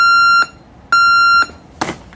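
An alarm clock beeping: two loud, sustained electronic tones, each about half a second long with a short gap between them, followed by a brief rustling burst.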